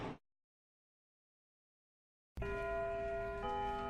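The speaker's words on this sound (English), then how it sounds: "And there goes the bell." School bell in the video game Lucid9 starts abruptly after a stretch of silence and rings as a steady, sustained electronic tone with a slight shift near the end, loud and alone.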